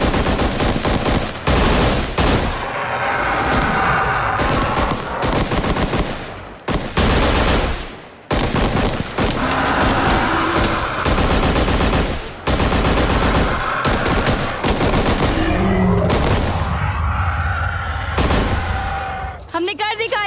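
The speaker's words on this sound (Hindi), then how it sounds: "गोलियां दागने के लिए तैयार।" Sustained, loud bursts of machine-gun fire and rapid gunshots roar through an action scene from a Hindi-dubbed Hollywood movie, with brief pauses between volleys and voices speaking over the battle.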